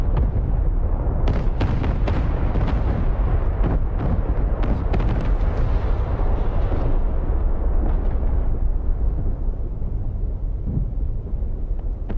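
Heavy bombs exploding during the 1941 Pearl Harbor attack in the WarGames 41 video game, a continuous rumbling barrage of deep blasts with sharp cracks early on, loud and sustained, fading slightly toward the end.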